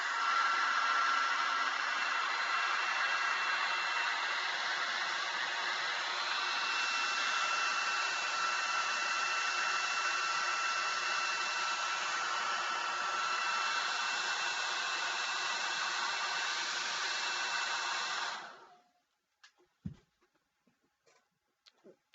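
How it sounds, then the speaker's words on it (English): A hair dryer blows steadily and loudly for nearly twenty seconds, drying painted fabric tulip petals, then switches off, leaving a few faint taps and clicks. "Just going to get my blow dryer and blow dry the petals of the tulip."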